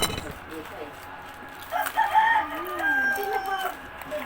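A rooster crows in a single drawn-out call at moderate distance, with faint clucking and household background noise around it.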